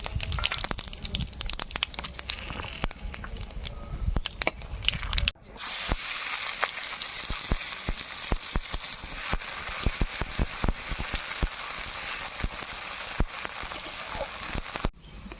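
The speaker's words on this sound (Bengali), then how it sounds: "তেল গরম, ফোড়ন দেবো গোটা গরম মশলা, শুকনো লঙ্কা, জিরে," Whole garam masala, dried chilli and cumin crackle and sizzle in hot oil, a dense, continuous spattering hiss with sharp pops that briefly drops out and then resumes.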